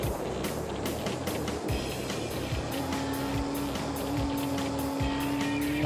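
A race car on a circuit at over 150 mph, engine note rising as it powers out of corners and dropping under hard braking, with repeated gear-shift bursts and a steady loud drone throughout.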